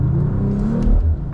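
A 2025 Mercedes-AMG CLE 53 Cabriolet with its exhaust valves open gives a short, loud, deep rev, heard close up on its own.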